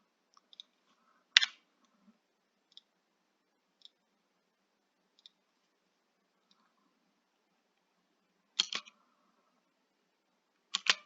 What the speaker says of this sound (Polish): Klikając na nie i klikając na klawiaturze Delete.